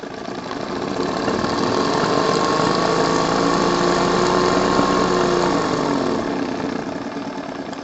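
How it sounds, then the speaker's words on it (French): A JLS 13-2 model steam engine runs steadily with its governor regulating, giving a continuous loud mechanical chatter and hum with rhythmic ratcheting clicks that rise in the first second and hold steady throughout. "Et vous entendez le régulateur faire son travail en même temps."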